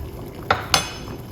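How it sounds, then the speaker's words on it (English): Two sharp metallic clinks from a pot lid being lifted off and the pot set down from the cooker, close and brief against a quiet kitchen background. "remove the lid. And take it off the cooker now."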